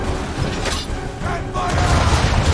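Naval ship cannons from Assassin's Creed III boom and crack in quick succession, loud and close, with a rough rumbling tail mixed under voices.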